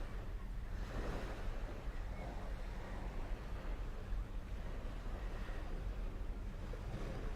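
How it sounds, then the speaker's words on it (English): Gentle waves lap on the shore along a coastal path between Seaview and Ryde on a sunny day, a soft continuous wash with light wind buffeting the microphone and no talking. "You can hear the waves lapping."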